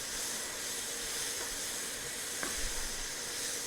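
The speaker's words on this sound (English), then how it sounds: "I'm just going to let these simmer for just a few more minutes." Italian sausage and vegetables simmer in a pan with a soft, steady sizzle and hiss, quiet and unbroken, with no one speaking.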